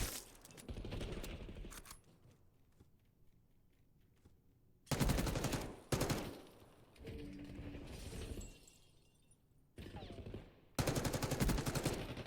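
Video game gunfire in short bursts separated by quieter stretches, with sharp cracking volleys, a few metallic clinks and faint background tones between shots.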